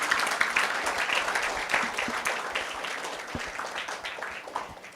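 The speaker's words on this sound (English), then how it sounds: "let's give a big round of applause to Prabhu" Crowd applause at a Narasimha Chaturdashi temple celebration, dense and sustained throughout, steady and fairly loud with no break.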